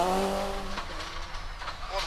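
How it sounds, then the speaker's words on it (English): A rally car spinning out at Lurgan Park Rally in 2003, engine note dropping with a brief tyre skid and scrubbing, heard under a commentator talking. "and the spin drops Kevin to 19th place"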